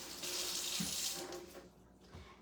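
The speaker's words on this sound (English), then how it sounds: "Let me rinse my hands off." Tap water runs steadily over hands being rinsed at a kitchen sink during baking, a close, continuous splashing hiss that thins out near the end.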